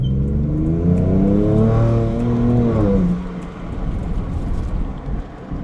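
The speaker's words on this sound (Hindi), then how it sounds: "मैं इसका पाँव पूरा दूंगा, लेकिन गाड़ी उठना कब शुरू होगी उसमें एक गैप होगा, वो चेक करें।" A 2022 Ford Ranger Raptor pulls hard at full throttle, engine note climbing steadily in pitch after a brief turbo-lag pause, loud and close from inside the cabin, then easing off into road and engine rumble.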